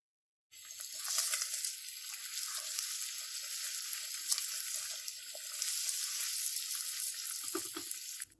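Whole spices for biryani, mace, bay leaves, green cardamom, cinnamon and black pepper, frying in hot oil, giving a steady close sizzling hiss that starts abruptly and holds without a break, with no voices.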